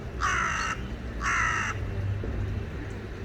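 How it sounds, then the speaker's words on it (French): Two loud, harsh crow caws, each about half a second long and a second apart, close by over a faint low background rumble, in a Japanese garden on the Île de Versailles in Nantes, France. "le corbeau, c'est pas agréable à entendre"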